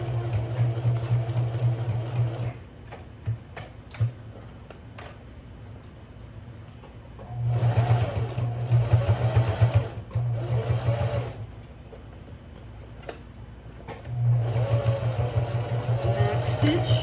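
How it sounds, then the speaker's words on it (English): A sewing machine runs back stitches on fabric for a simple bag. It buzzes in three close bursts separated by pauses. "I'm going to start to sew the back stitch"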